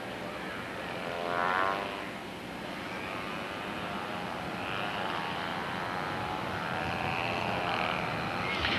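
A propeller airplane's engine drones steadily at an aerobatic airshow as the aircraft drags its tail wheel along the ground, a continuous fairly loud hum with a brief swell near the start.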